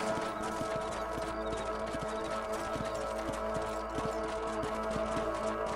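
Horse hooves in Red Dead Redemption clip-clop at a steady, even rhythm while the horse is ridden across a ranch, close and continuous over a low background hum.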